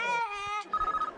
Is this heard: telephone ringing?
yes